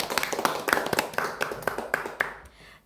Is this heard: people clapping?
yes